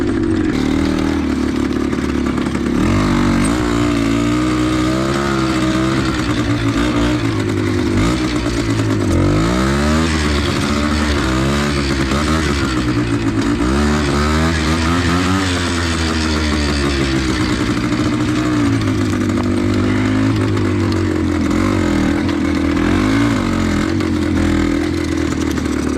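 Suzuki TC185 two-stroke dirt bike ridden through woods, engine revving up and down in repeated rising and falling sweeps with clattering, loud and close throughout, no talk.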